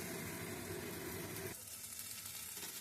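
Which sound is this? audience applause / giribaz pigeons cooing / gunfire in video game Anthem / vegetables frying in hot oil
vegetables frying in hot oil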